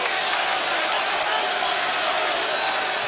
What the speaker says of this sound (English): Crowd really baying here